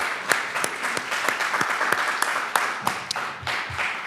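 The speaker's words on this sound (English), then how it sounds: "If everyone could please join me in another round of applause for the 2023 National Teacher of the Year." An audience gives a sustained round of applause for the 2023 National Teacher of the Year, with dense, steady clapping and individual sharp claps standing out throughout the passage.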